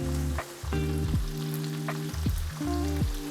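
Tuna sizzles in a hot pan with spices added for a tuna pasta, a light frying crackle sitting under prominent background music throughout.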